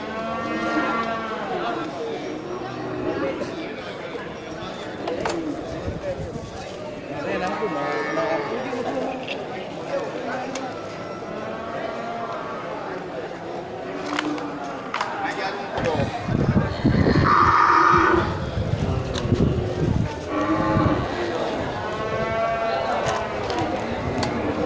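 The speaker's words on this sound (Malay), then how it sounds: "ini sapi Aceh ya, sapi persiapan untuk sapi kurban." Aceh cattle being readied as sacrificial animals at a livestock market low over and over, several moos at close and middle range against a busy background of voices and crowd noise, with a louder burst of activity toward the end.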